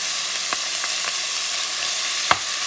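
Garlic sizzles in hot oil for a Puerto Rican shrimp stew, a steady hiss of frying with a few soft stirring clicks and one sharper utensil tap near the end.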